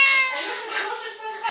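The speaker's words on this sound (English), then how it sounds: "Meow. What a whiny meow." A kitten lets out a single whiny, drawn-out meow up close, loud and clear against a quiet room.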